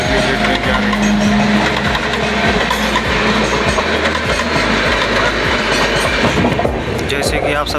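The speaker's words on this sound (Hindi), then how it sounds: "देख लीजिए ट्रेन जा रही है।" A passing train seen from a halted train on a journey from Banaras to Mumbai, with loud continuous rumbling and rhythmic clickety-clack of wheels over rail joints, close and sustained throughout, with a voice talking over it.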